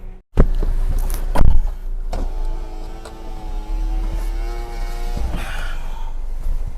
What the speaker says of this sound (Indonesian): Yuk sekarang kita test drive jalan, ngerasain mobil Avanza G 2013 tentunya.